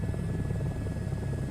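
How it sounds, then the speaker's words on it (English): Helicopter engine in a VR flight game, a steady loud rotor thump and turbine drone with a thin high whine running through it, continuous for the whole moment. "my audio just starts cutting out for the engine sounds"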